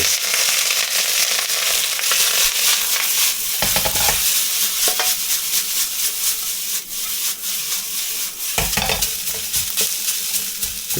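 Rice tossed and stir-fried in smoking hot oil in a preheated pan with kimchi and smoked brisket, a steady loud sizzle running throughout, with brief scraping tosses around four and eight-and-a-half seconds.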